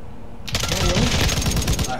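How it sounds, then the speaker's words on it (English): Submachine gun fire in the Call of Duty MWII beta, a dense rapid burst of automatic shots sustained for about a second and a half at close, loud range, with game noise underneath. "That was an SMG"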